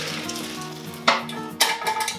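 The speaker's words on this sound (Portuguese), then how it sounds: "Vou escorrer." Cooked pasta tipped out to drain, with a steady watery hiss of liquid pouring and two sharp clattering bumps of a pot partway through, close by.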